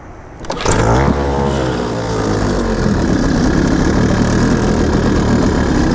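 A cheap small outboard motor on a tiny boat starts up with a sharp burst, then runs at a steady, loud, buzzing drone that stays close for several seconds, with no talk.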